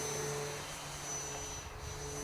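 Turbo Timber Evolution RC plane flying overhead, a steady buzzing motor drone with a faint high whine, distant and even throughout with no talk.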